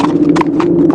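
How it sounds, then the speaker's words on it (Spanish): Horse hooves clip-clop steadily on a road, a firm, even run of close hoofbeats with no voices. "volví a escuchar el golpe de los cascos contra el camino, firme y real"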